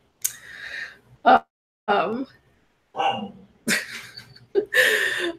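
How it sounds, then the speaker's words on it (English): A dog growls and gives short yipping barks in close, separate bursts while it tries to get a cat to play. People talk between the bursts. "Why is the dog growling?"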